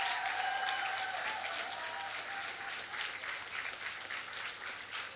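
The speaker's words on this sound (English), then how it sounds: "Let us just give our cast and production crew a final round of applause." An audience at a Caribbean secondary schools drama festival applauds, giving steady, dense clapping throughout that fades slightly toward the end.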